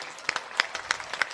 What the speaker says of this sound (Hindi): भाई सभी लोग एक बार जोरदार ताली बजाएं।